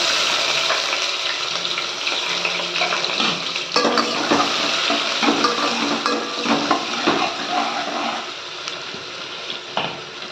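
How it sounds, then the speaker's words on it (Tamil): Chopped onion frying with fenugreek in a pan for a Tamil fish curry, a loud close sizzle and crackle with scattered clinks and scrapes of a utensil against the pan. "இந்த டைமில் ஒரு பெரிய வெங்காயம் கட் பண்ணி வச்சுருக்கேன், சேர்த்துக்கலாம்"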